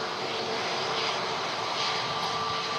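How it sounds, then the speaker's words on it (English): An EasyJet Airbus A320neo jet on landing approach at Manchester Airport gives a steady, loud broadband engine roar that holds throughout without any talk. "EasyJet A320neo coming in here."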